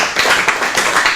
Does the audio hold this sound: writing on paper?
no